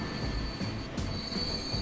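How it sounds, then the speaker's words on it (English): A six-car train rolls along the track in the video game Transport Fever, a steady, close rumble with faint squealing wheels and a few light clacks, with no talk over it. "Philip is a six car train"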